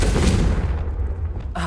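A Confringo blasting spell from Hogwarts Legacy erupts as a loud, close boom with a broad low rumble that thins out over a second and a half, ending in a fresh burst.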